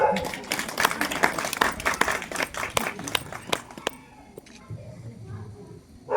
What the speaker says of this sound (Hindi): मीनाक्षी जी, ममता जी आगे आ जाइए, उनको सम्मानित करें और जोरदार तालियों के साथ।